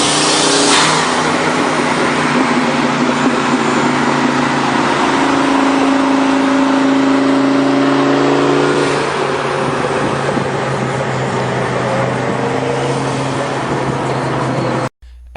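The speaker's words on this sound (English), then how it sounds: "Listen to the turbo whistle as throttle is applied." A turbocharged Mustang engine revs and holds steady and loud, with a rising turbo whistle over the deep engine rumble, then cuts off abruptly at the end.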